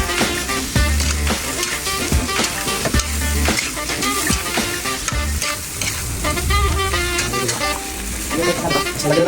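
Lunch food fries and sizzles steadily in a pan while being stirred, with repeated scraping and clattering strokes throughout, loud and close.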